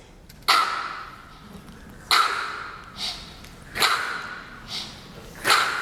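A beatbox flutist vocally imitates a drum rim shot: six sharp, clicky pops spaced about a second apart, crisp and close, with quiet gaps between them.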